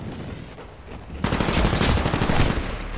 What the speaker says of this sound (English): She got me with the machine gun